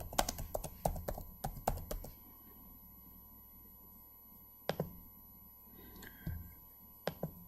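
Someone types a chart axis title on a computer keyboard in quick bursts of crisp, close key clicks, pausing for several seconds before a few more scattered taps.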